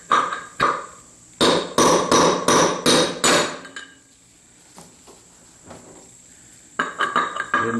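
Metal hammer blows driving a bushing out of an Ariens Husqvarna mower wheel bearing, a quick series of sharp ringing strikes, a pause with faint taps, then another rapid flurry.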